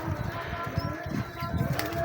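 Pigeons coo in a low, repeated throaty rhythm, nominated birds of a breeder's loft, with a voice speaking intermittently over them at close range.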